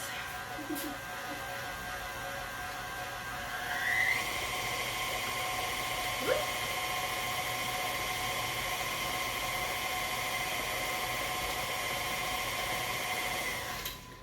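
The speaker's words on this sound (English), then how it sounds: "And mix all of this in." Banana bread batter being mixed gives a steady, close, high motorized whine that runs almost without a break.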